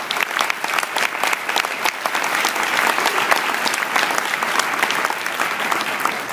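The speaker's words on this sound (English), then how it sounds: "let's give a round of applause for our teachers" A large audience applauding teachers at an education reform event, steady loud clapping from many hands sustained throughout without a break.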